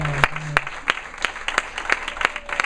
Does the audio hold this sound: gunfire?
no